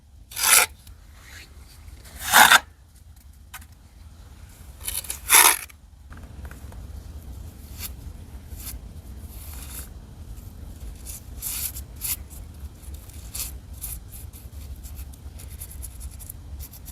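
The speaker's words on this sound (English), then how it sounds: "scrape it up." Material scraped up and spread onto a wall with a flat tool: a few loud rasping strokes at first, then a long stretch of softer, steady scraping and rubbing close by.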